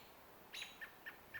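A small forest bird calls at an owl with four short, sharp chirps at an even pace, moderately near and alone.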